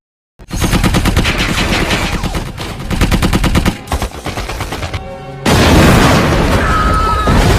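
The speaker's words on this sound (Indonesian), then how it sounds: "Naasnya Thomas tertembak, sedangkan ia sudah menyalakan bom" A war-film battle between Indonesian fighters and Dutch forces: loud, sustained machine-gun bursts and rapid gunfire, then a heavy blast and roaring explosion noise that fills the final seconds.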